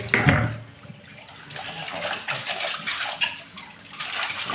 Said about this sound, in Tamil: முதல்ல நான் சட்டியை கழுவிக்கிறேன்.